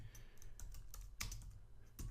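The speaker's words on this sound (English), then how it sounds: "by typing history -C" Keystrokes on a computer keyboard as a Linux terminal command is typed, a quick irregular run of close clicks over a steady low hum, with a sharper cluster near the middle.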